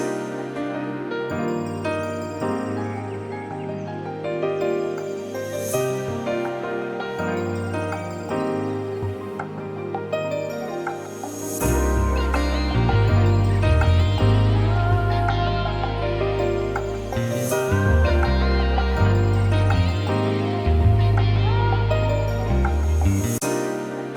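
A looped hip-hop beat plays steadily, with layered melodic keys and cymbals, then heavy deep bass and drums enter partway through, loud with no talk.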